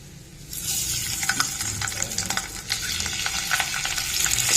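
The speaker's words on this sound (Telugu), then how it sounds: "వేసుకొని చిటికెడు పసుపు, చిటికెడు ఉప్పు వేసుకొని మనము ఎగ్స్ ఫ్రై చేసుకోవాలి." Eggs fry in a tablespoon of oil with a pinch of turmeric and salt, a close, crackling sizzle that starts abruptly and carries on with sharp pops and spatters, with no voices.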